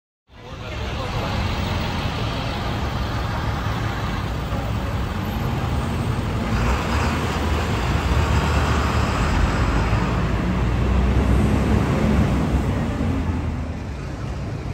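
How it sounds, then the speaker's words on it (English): Busy downtown New York City street traffic outside Moynihan Train Station, a continuous broad rumble of passing vehicles and city noise, fairly close and steady throughout, with no clear speech. "So we're now out here in downtown streets of New York City."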